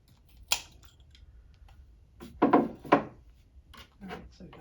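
A wooden stick being cut for a secret door build, several short scraping rasps in quick bursts, close and fairly loud, with quiet pauses between strokes.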